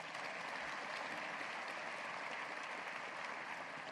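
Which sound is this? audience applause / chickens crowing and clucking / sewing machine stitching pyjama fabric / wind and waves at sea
audience applause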